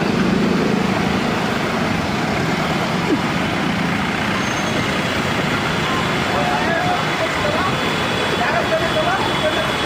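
Dense road traffic on a congested city street, a loud continuous rumble of trucks, buses and cars with engine drone throughout, voices of a crowd faintly mixed into the noise.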